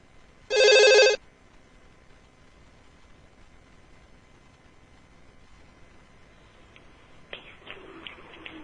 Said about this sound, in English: Oh, hold on, we got a phone call.